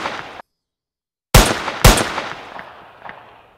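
Two sharp gunshot effects of the kind paired with a muzzle flash ring out close and loud in quick succession after a brief silence, each leaving a decaying metallic tail.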